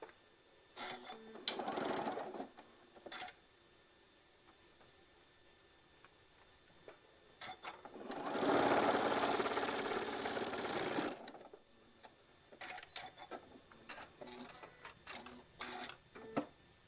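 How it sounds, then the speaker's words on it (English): Domestic sewing machine stitching quilt fabric for a maple leaf table runner, running in a steady mechanical whir for about three seconds mid-clip between short bursts of clicking and handling, with quieter ticks before and after. "Line up our edges and sew that down."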